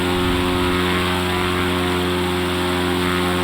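Steady, loud droning engine of an X Cub light aircraft climbing out after takeoff in a flight simulator, a continuous propeller hum holding an even pitch throughout.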